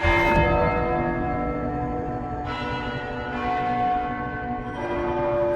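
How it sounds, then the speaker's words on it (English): A large bell rings loudly and close by, struck several times with bright sustained overtones that keep ringing and layer over each other, with no talking. "I'll slide and go below the bell and ring it from underneath."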